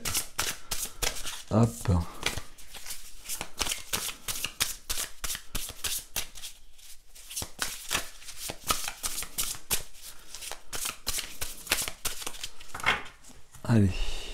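Arthurian tarot cards riffled and shuffled in rapid, dense bursts of crisp flicks throughout, close up, with a voice speaking briefly near the end.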